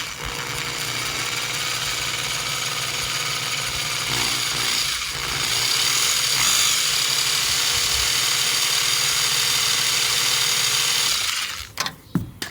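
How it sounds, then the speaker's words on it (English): A power drill whirs steadily and loudly for several seconds, close by, drilling a pilot hole for a dash cam or backup camera, before cutting off with a few short clunks at the end. "I got my pre-drill"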